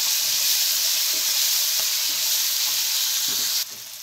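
Chopped tomato pieces frying in a pan for a chana dal chicken curry give a steady, loud, close sizzle with faint stirring scrapes, easing slightly near the end; no one speaks.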